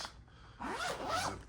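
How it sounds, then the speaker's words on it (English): A zipper is pulled closed around a top-loader binder holding trading cards. One continuous, fairly close zip runs for about a second after a brief quiet start. "Zip this up."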